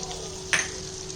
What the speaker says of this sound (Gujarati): બટર મેલ્ટ થાય એટલે એમાં આપણે ઝીણ કટ કરેલું ગાર્લિક એડ કરી દઈશું.